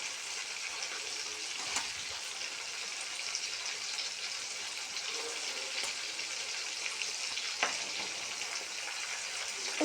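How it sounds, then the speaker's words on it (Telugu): Chicken frying in a pan gives a loud, continuous close sizzle for the whole stretch, with a couple of brief clinks or stirs and no talking. "ఇంకొంచెం ఫ్రై కావాలి."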